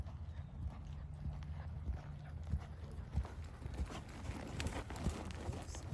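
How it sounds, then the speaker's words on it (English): A horse in a sitting trot under saddle during a saddle fitting, its hooves giving a soft, steady clip-clop over a low background rumble, with a few faint voices in the distance. "let me see some sitting trot"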